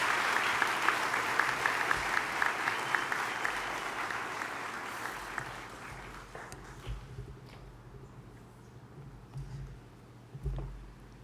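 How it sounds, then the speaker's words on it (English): A university audience claps for the SRC president at a first-year students' welcome address; dense, steady applause fills the hall, then thins and fades over several seconds into scattered claps and room noise. "Can we give him a huge round of applause?"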